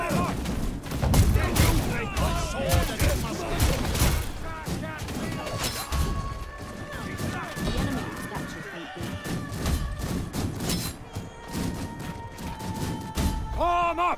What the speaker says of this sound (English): Volley fire! Volley fire!